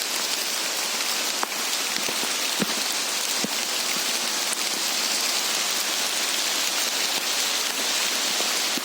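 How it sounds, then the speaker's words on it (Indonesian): Steady rain falls throughout in a forest in Aceh, a dense, even hiss of drops on surfaces with occasional louder nearby drips, no voices. "Hujan ya."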